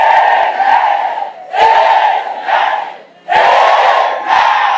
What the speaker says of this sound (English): And let every soul here say a louder amen 3 times.